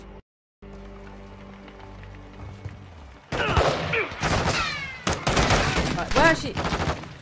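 Rapid gunfire bursts in the Call of Duty Modern Warfare II campaign, loud, dense volleys crackling in waves during combat, after a quieter opening, with voices talking over the shooting.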